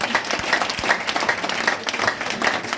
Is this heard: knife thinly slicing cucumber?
no